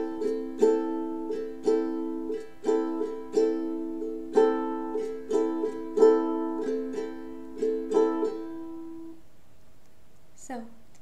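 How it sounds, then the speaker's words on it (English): Ukulele strummed in a steady down-up pattern, about sixteen bright, evenly spaced chord strokes ringing clearly and close, then the last chord fades out before a short knock at the end. "The strumming pattern that I will use for the verse and the chorus is down,"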